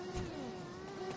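An RC car in the video game Yeeps Hide and Seek whines with a steady mid-pitched motor tone that briefly rises, heard close and alone.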